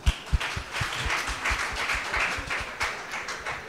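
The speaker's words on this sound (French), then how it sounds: "je propose qu'on s'applaudisse." Scattered clapping from a small group, uneven and brief, fading in and out.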